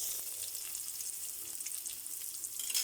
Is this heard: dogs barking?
no